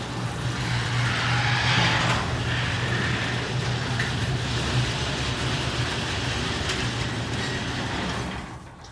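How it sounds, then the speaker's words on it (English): A garage door opens under a newly installed smart opener, a steady mechanical rumble and hum with a rattling track that runs for several seconds and then fades as it stops. "Now the garage is opening."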